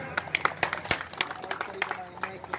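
A crowd at a village public meeting in Jhuk, Mahendragarh, claps in sharp, scattered bursts, the uneven slaps near and fairly clear, with a voice faintly present underneath.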